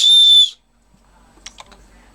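A small black plastic whistle built into a side release buckle for a 3/4-inch survival bracelet strap gives one short, bright, steady shrill tone close up, then stops, leaving faint handling clicks.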